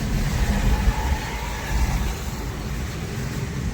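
A vehicle being driven along a village road, its engine giving a steady, fairly close rumble with gentle surges and no talking.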